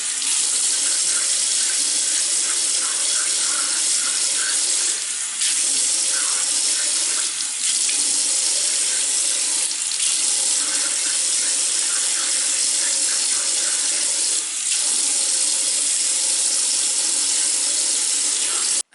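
Tap water runs steadily into a bathroom sink to wet hair along the edges and hairline, a constant close splashing hiss with a few brief dips as hands move through the stream, no talking.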